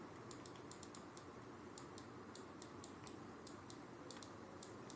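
Quiet, steady typing of code on a computer keyboard, with irregular clusters of light key clicks and brief pauses over a low background hiss.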